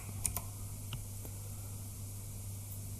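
Computer keyboard keys are tapped a few times early on, a short cluster of faint close clicks over a low steady hum, then quiet.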